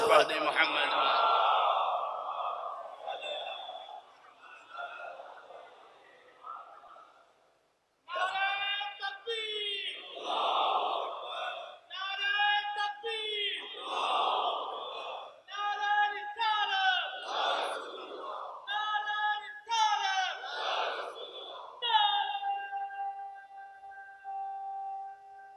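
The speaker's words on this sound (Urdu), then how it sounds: "ایک بلند صلوات پڑھ دیں محمد۔" A congregation at a Muharram majlis gathering loudly chants salawat in unison, a large crowd voicing repeated rhythmic phrases that swell and drop, with a brief pause before the chant resumes.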